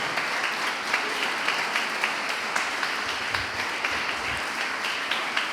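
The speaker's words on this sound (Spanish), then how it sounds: "Dale un aplauso al Padre." Church congregation at a Sunday service applauding the Father, a full steady round of clapping with some louder nearby claps popping out in a loose rhythm, no talking heard.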